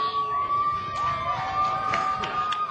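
Wrestling fans at an NWA Atlanta show cheer steadily through the match, a dense continuous crowd roar with scattered shouts and whistles, fairly loud and without a break.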